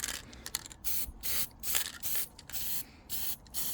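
An aerosol can sprays undercoat onto a Maw-Krusha miniature model in repeated short hissing bursts of about half a second, separated by brief pauses, close and fairly quiet with no talk.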